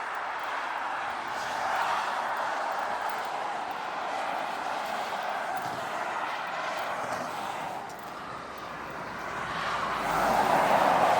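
Trucks pass one after another on the M9 motorway near Stirling, Scotland, heard from the roadside as a steady broadband road roar that swells and fades, with a louder approach toward the end.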